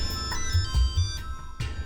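A phone ringtone plays in a Hindi crime drama, a steady electronic melody with repeating tones that sounds close and fairly loud over low background hum.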